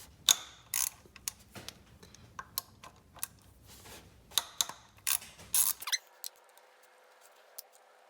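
A ratchet clicks in quick bursts while the two 10mm bolts holding the high-pressure power steering line on an Acura MDX are loosened. The close, irregular metallic ticks stop near the end, leaving a faint hum.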